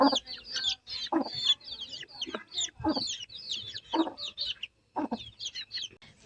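Newly hatched chicks peep steadily in rapid, high-pitched bursts, close by, while lower clucking sounds break in at intervals.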